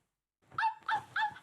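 A plush toy dog gives three short, bright electronic barks in quick succession after a moment of silence, close and clear.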